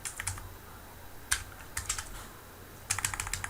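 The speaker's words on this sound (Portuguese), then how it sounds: "Vamos digitar direitinho" Keys clacking on a computer keyboard while commands are entered in a Linux terminal, with short bursts of quick keystrokes separated by pauses, close but fairly soft.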